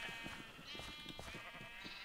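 Sheep bleating in the video game Minecraft, several short nasal bleats repeating in quick succession over a steady background, fairly close and moderately loud.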